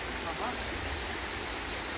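River water flows in a steady, even rush that fills the whole moment, close by and continuous, with no clear voices standing out.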